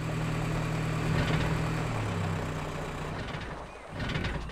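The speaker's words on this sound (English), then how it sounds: "The Jeep stopped working. I think the engine is overheated." A Jeep engine idles with a low, steady rumble, then sputters and winds down as it cuts out from overheating, leaving a brief rattle near the end.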